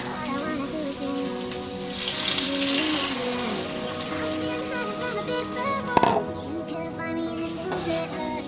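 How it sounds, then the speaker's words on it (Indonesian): About 250 ml of water poured into a hot pan of sweet and sour gourami sauce, giving a steady hiss and sizzle with light bubbling throughout, fairly close and moderately loud. "Yuk langsung kita tambahin airnya ya."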